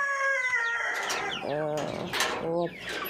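A small backyard flock of Lohmann Brown hens with one rooster gives loud, harmonic calls near at hand, two drawn-out crowing bursts rising over steady clucking.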